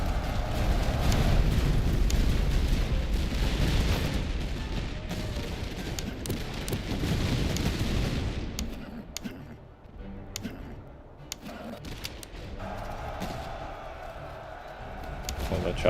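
Musket volleys and artillery fire in the Seven Years War video game Master of Command, with Poland-Lithuania Commonwealth troops, roar as a heavy, rumbling wash of massed gunfire for the first half, then thin out into sparse distant pops and clicks.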